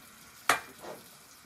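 Butter dropped into a heated frying pan bursts into a short, sharp sizzle, then settles into a fainter fizzing hiss that quickly fades.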